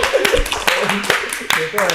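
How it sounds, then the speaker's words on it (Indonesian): People clap on a podcast set, scattered and uneven claps that are sharp and close, mixed with talking. "tepuk tangan dulu"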